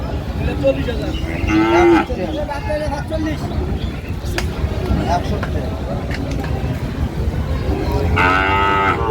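Sahiwal bull calves moo loudly nearby, two long low calls, one early and one near the end, while people talk throughout.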